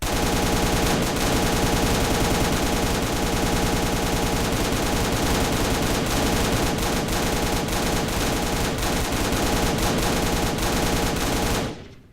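Rapid, continuous automatic gunfire from a gun in the Crafting Dead Minecraft mod, loud and dense, runs for about twelve seconds, then stops abruptly.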